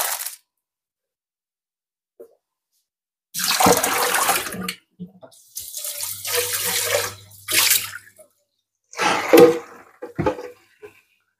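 A kitchen tap runs in several bursts to refill a flower vase, gushing water splashing loudly for a few seconds at a time, separated by silent pauses, with handling clunks in between.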